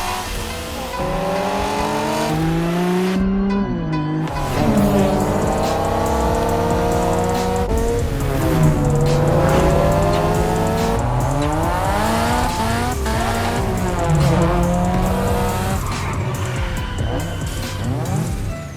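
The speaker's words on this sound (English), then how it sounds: "You'll be racing amongst the whole pack this time. So we got you covered with a special car." Race car engines rev and whine continuously in The Crew Motorfest video game, rising and falling through gear changes with tire squeal and skidding, loud and close for the full stretch.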